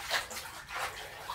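Water sloshes and splashes in a basin as laundry is rinsed by hand, with a few uneven swishes rising and falling at close range, quiet overall.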